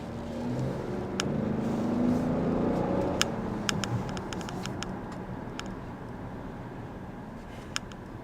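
A 2018 GMC Acadia Denali with a six-speed automatic pulls away, its engine a steady low hum and road rumble heard from inside the cabin, with a few faint clicks and knocks scattered on top and no talk.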